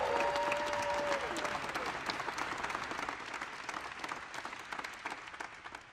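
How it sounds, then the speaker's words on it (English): Audience applause fills a post-flight press conference for the first human crew of the New Shepard spacecraft, steady dense clapping that stays loud throughout and tapers slightly toward the end. "Another round of applause."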